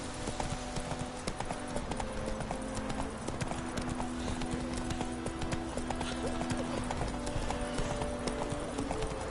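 Roach, Geralt's horse in a video game, trots along with rapid, even hoof clip-clops close by, over a sustained musical drone and faint background voices.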